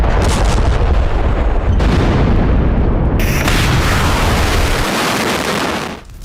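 Heavy Russian artillery fire and shelling in Donetsk, a sustained loud roar of booms and blasts that swells, breaks and resumes several times, then fades abruptly near the end, with no voices.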